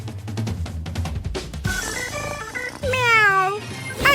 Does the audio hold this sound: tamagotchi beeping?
no